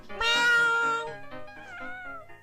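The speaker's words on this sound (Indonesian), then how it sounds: "kucing saya memang nakal" A cat lets out a loud, drawn-out meow, then a second, softer wavering meow, close by and alone.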